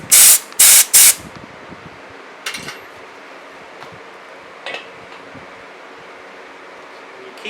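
A 1 lb propane bottle is purged during a refill, letting out three loud, close bursts of hissing gas in quick succession, followed by quieter handling sounds and faint clicks.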